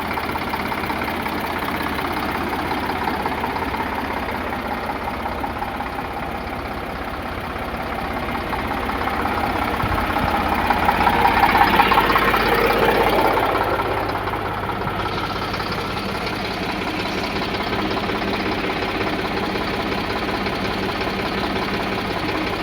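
An Eicher 548 tractor engine idles with a steady, close mechanical chug and knocking, swelling slightly for a few seconds midway before settling back to an even throb.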